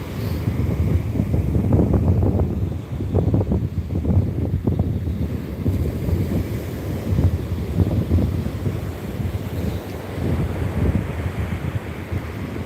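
Ocean waves at high tide by the Channel Islands dunes, rolling surges of surf mixed with heavy wind buffeting the microphone, continuous and fairly loud with irregular swells, no talk.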